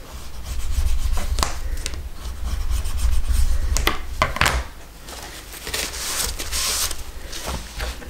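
Glued paper being pressed and rubbed down by hand on a pop-up album page, giving steady close scraping and rasping strokes with brief pauses and a lull around the middle.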